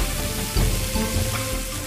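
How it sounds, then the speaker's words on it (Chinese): A thick breaded pork chop deep-fries in hot oil, giving a dense, close crackling sizzle that runs continuously, with a few heavier bubbling bursts and no talk. "像现在听到有滋滋滋的这种撕出来的声音，就说明猪排内部已经上着了。"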